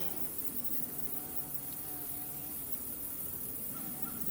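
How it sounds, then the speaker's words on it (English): A bee buzzing among pollinators in a home garden, a steady faint hum running alone over several seconds amid outdoor background noise. "I guess that's a type of bee."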